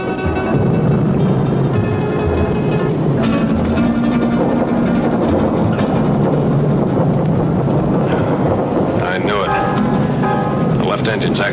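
A 1950s propeller airplane engine in flight, running rough with a steady loud drone and uneven surging, alongside dramatic film score and some voices.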